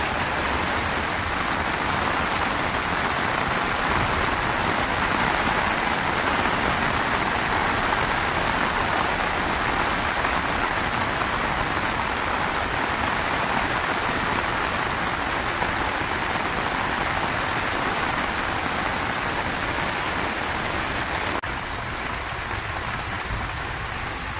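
Steady rain falls across a home garden with hostas and a rain bucket, a dense, even hiss of drops close by that holds for the whole stretch and eases only slightly near the end, with no voices.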